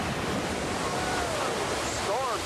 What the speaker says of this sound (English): These waves are crashing 100 yards inland from where they normally break.